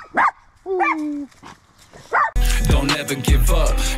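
A puppy barks and yips in short high bursts, with a drawn-out whine between them, close and loud, before louder music and voices take over.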